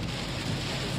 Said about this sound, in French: Quand il pleut, on voit presque rien